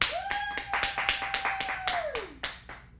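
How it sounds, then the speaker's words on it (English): Applause from a full studio audience, heard as a scattered run of separate claps and taps rather than a dense roar, with a steady tone sliding downward near the end. "I figured they'd all keep clapping"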